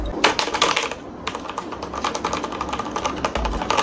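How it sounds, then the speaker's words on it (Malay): Rapid, steady clacking of typing on an MSI GK-701 mechanical keyboard, close and clear, with dense keystrokes, a brief pause near the one-second mark, and a few heavier thocks like a spacebar; no talk. "So untuk keyboard ni okay, aku bagi dengar lah sikit kan."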